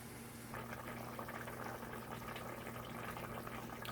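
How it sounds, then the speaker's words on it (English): A pot of chicken curry simmers on the stove with a low, steady bubbling and a faint hum beneath, no voices. "The pot is bubbling."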